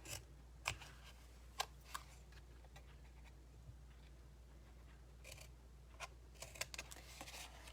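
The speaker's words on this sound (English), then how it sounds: "I'm going to cut a little slice off of that section that I'm leaving" Scissors snip card stock for a handmade gift card holder, a series of quiet, crisp cuts and clicks spaced irregularly over a faint steady background hum.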